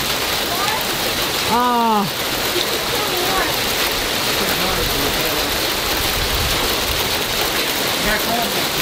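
Hail pelts down during a severe thunderstorm, a dense steady hiss and clatter of stones striking outside the house, while a voice exclaims briefly and an animal-like call rises early on.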